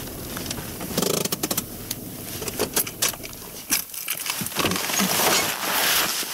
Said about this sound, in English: the audio you're about to hear is me stopping and hopping out of the car